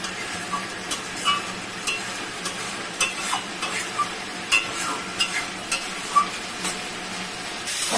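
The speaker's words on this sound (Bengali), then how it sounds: "মশলাটা কষানো হয়ে গেছে" Potatoes and masala spice paste sauté in oil in a pan, giving a steady low sizzle broken by repeated soft scrapes and stirring clicks at close range, with no voices.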